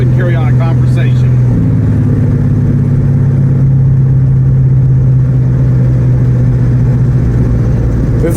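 A car engine and exhaust drone steadily at about 2,200 RPM, a loud continuous low hum with a slight pitch step early on and a person talking over it.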